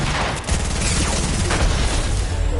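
Dense, continuous gunfire from a video game, sustained bursts of shots layered over one another with booming low end throughout.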